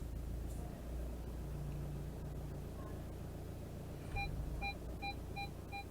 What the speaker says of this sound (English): on this particular model we've got reversing sensors in the rear bumper that lets you know if you're getting close to something